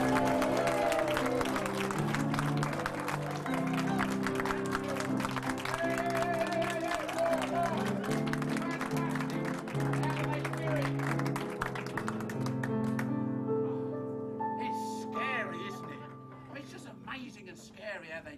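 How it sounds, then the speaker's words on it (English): Applause from a music hall audience, with steady clapping from the crowd blended with band music and voices, gradually thinning out toward the end. "Can we have a tremendous round of applause"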